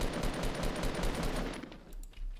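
Rapid automatic gunfire from the video game Fortnite rattles in a dense, continuous burst for about two seconds, then thins out into a few scattered shots near the end, loud and up close.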